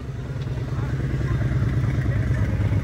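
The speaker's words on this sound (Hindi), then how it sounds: "लो भाई अपनी हार्ले डेविडसन आ गई है" A Harley-Davidson motorcycle pulls up, its engine holding a loud, steady, close low rumble throughout with a faint mechanical clatter on top.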